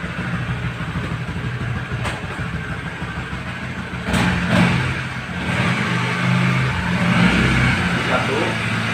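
A Honda CB150R motorcycle being repaired for stalling and sputtering runs at a steady idle, then its engine note rises and shifts as it is put into gear, loud and close, with someone talking over it.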